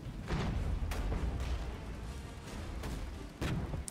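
Mortar fire in the wargame Regiments thuds as a few muffled, distant booms over a low, rumbling battlefield background.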